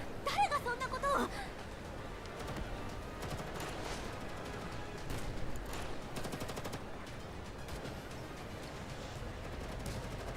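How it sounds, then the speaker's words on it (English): Gunfire in a firefight from the video game Girl's Frontline 2 Exilium, rapid bursts of automatic shots continuing steadily under a faint voice and game ambience. "Definitely just gunfire."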